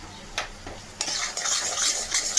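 A spoon stirs ivy gourd mash mixed with sugar in a pan, making close scraping and clinking strokes with a soft background sizzle, in short bursts that grow busier toward the end.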